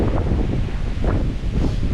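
Strong wind gusts roar and buffet the microphone on a mountaintop in steady, heavy rushes, loud and close throughout.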